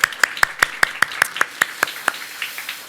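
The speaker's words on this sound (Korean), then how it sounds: "다시 한번 따뜻한 박수로 올리겠습니다" Slow, evenly spaced handclaps by a few people during a church service, about a dozen sharp claps in a steady rhythm that trail off, with faint talk in the background.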